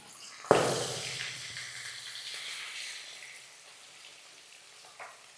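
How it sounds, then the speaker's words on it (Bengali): A bata fish head drops into hot oil with a sudden loud splash of sizzle that settles into a softer, fading hiss of frying. "দেখো মাছের মাথাটা আমি একটু তেলের মধ্যে নামিয়ে দিচ্ছি"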